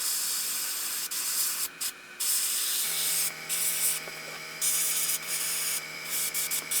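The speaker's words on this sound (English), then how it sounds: "the black's still loaded up in the airbrush. We're going to go ahead and darken up what's left on the back of the bait here." Airbrush spraying black paint onto a fishing lure, a close steady hiss broken by brief pauses as the trigger is released and pressed again.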